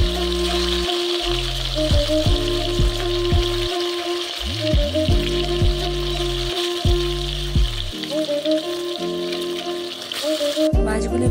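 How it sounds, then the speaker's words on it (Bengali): Rohu fish pieces fry in hot mustard oil for rui macher kalia. A continuous bright sizzle runs under prominent background music, with no talking. "মাছগুলি ভাজা হতে থাক"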